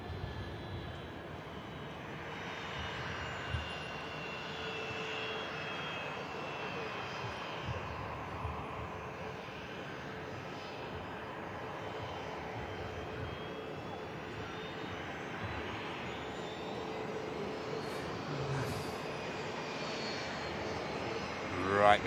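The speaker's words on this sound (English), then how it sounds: "I say aircraft heading towards Bolton, right overhead of Bolton, the beluga." Airbus Beluga flying overhead near Manchester Airport toward Bolton, a faint distant jet-engine rumble held steady throughout, hidden behind cloud, with a soft hiss and a slight swell at the end.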